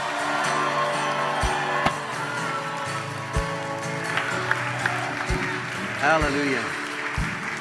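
Sustained applause and clapping from a church crowd, with a voice calling out briefly over it and some music underneath.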